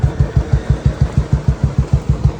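A repaired Royal Enfield Bullet motorcycle engine runs at a steady idle close by, its deep single-cylinder thump repeating evenly about five times a second with no talk over it.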